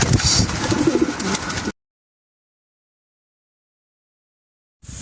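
Racing pigeons arriving at the loft during a summer derby race coo and flutter close by for under two seconds, then everything goes silent before a brief return of sound at the end.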